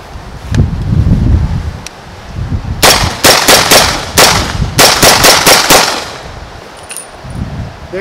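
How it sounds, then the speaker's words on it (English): Ten subsonic 300 Blackout rifle shots with 150 grain bullets, fired unsuppressed outdoors: sharp loud cracks in two quick clusters, with wind and rustling noise between. "Let's shoot 10 with out the can on"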